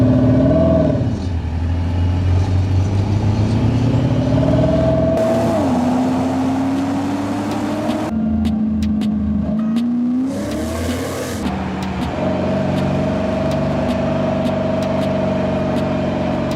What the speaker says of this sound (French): On se retrouve ici sur l'essai routier avec la sonorité de la Porsche Panamera.